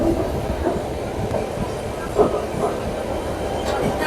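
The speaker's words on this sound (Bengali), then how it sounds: "ঠিক নির্ধারিত সময় ছেড়ে দিয়েছে আজকে পুরী দুরন্ত এক্সপ্রেস।" The Puri Duronto Express pulls out of Sealdah station with a steady, close rumble of rolling wheels and carriages. Faint clatter and a brief knock break the continuous drone.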